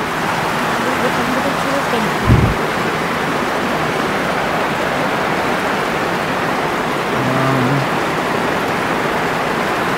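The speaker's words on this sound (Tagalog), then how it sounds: "Pag lalong lumalakas yung ulan" Heavy rain pours steadily on a mountaintop, a dense loud hiss filling the whole stretch, with brief voices and a short thump breaking through partway and again near the end.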